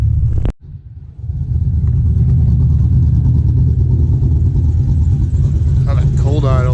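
A truck engine fitted with a swapped Vortec 5.7 catches and settles into a loud, steady, rumbling cold idle close by after a brief starting sound, with a voice speaking near the end.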